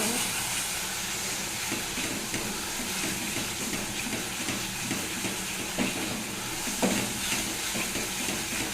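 Spiced fish curry masala with chili and ginger paste, sautéed in oil, sizzles in a continuous dense hiss with occasional stirring scrapes, close and fairly loud.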